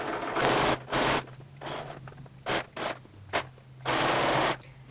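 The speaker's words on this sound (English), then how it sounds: "Here we go, sewing up the inseams." A sewing machine running along the inseams of men's pajama pants in short start-stop bursts, a close rapid whirring chatter with brief pauses between runs.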